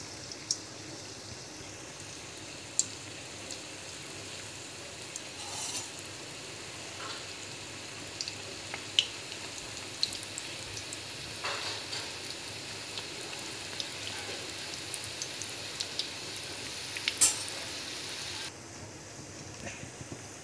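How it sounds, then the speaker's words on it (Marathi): Manchurian balls deep-frying in oil in a wok over medium heat, a steady soft bubbling hiss with scattered pops and crackles throughout, fairly quiet and continuous. "आपण कढईमध्ये तेल ठेवलेलं आहे, आता एक एक सोडूया। मीडियम गॅसवर तळायचे"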